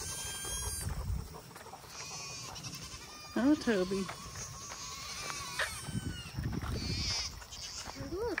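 Goats bleat repeatedly on a farm, several calls standing out near and fairly loud while a person talks over them amid outdoor background noise.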